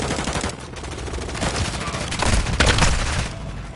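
Loud bursts of automatic gunfire from a weapon in a video game, with rapid repeated shots and heavier blasts mixed in through most of the stretch, while a voice is partly heard underneath.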